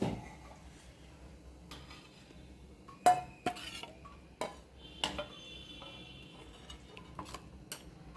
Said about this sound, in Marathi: मी आता ताट वाढते जेवायला